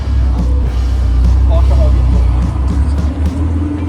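Cars drive past on a street in Basel, Switzerland, as a heavy, steady low rumble of traffic close by. Voices can be heard faintly over it.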